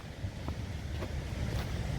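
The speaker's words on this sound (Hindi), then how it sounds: "पानी की आवाज़ आनी शुरू हो गई है," Rushing water of a swollen mountain stream in a Himalayan valley, a steady broadband roar with wind buffeting the microphone, continuous and fairly loud throughout, with no one speaking.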